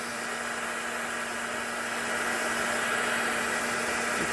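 A heat gun blows a steady, even hiss of hot air over a stamped card held up while embossing powder melts on a large stag beetle image. The tone is continuous and close, and it swells slightly louder partway through. Nobody speaks.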